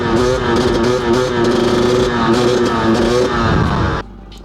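A 300 motorcycle engine revs hard and high through its power band, loud and close with steady pitch sweeps, then cuts off abruptly near the end.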